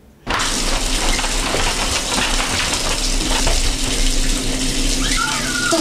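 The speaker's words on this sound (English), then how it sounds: "if you take a shower and somebody else runs the water" A household faucet runs water in a steady, loud gushing stream that starts abruptly and continues without a break, close by.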